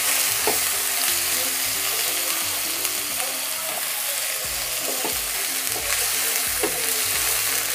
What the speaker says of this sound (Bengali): কাঁচা পেঁয়াজ কুচি দিলাম।